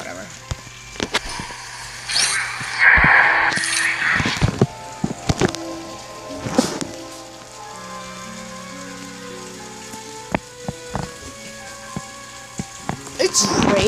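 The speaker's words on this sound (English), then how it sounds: "It's raining outside." Rain falls in the SimCity video game as a soft, steady patter, with game music tones and a few sharp clicks mixed over it.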